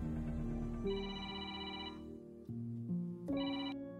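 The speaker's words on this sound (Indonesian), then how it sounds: "tiba-tiba saja HP dari driver itu berbunyi" A mobile phone rings in a film scene, a melodic electronic ringtone playing a run of tones, pausing briefly, then resuming, fairly quiet and heard alone without speech.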